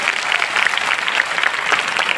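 Steady, dense applause from an audience at a stage event fills the clip without pause, close and loud.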